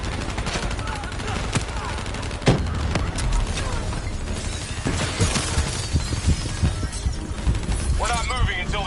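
Rapid turret gunfire in Black Ops 3 mixed with shattering debris and blasts, loud and continuous throughout, with voices under the din.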